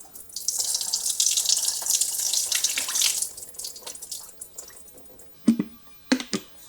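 Water runs steadily from a tap for a few seconds, then tapers off into a few sharp splashes and clinks as homemade butter is rinsed in a bowl.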